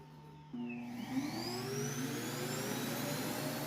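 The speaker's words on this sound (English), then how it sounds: "The Roomba should have taken a sharp left, but instead took a wide turn which bumped into the bed frame" An iRobot Roomba s9 robot vacuum runs indoors, its motor spinning up into a steady whirring drone with a rising tonal whine, close and continuous with no speech.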